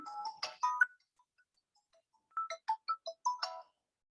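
A phone ringtone plays as students dial in to an online session, in two bursts of electronic melodic beeps separated by a quiet gap.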